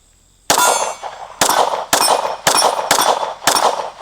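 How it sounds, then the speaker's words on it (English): Six sharp metallic clangs of bullets from a CZ P-10C ported pistol striking an 8-inch steel gong at a range, each ringing briefly, in a quick uneven rhythm after a short silence. "I'm hammering that 8-inch gong pretty good."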